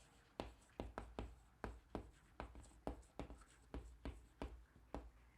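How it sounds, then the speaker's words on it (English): Handwriting on paper, a steady series of short scratchy pen strokes in an even rhythm, close and quiet with no talking. "I'll just write here again"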